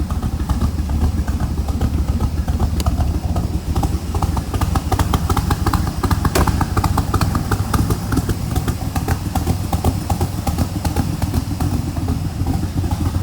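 1965 Shelby Cobra MKIII Factory Five replica engine running steadily just after a cold start, a loud, continuous rumbling idle with clattery texture throughout, no voices.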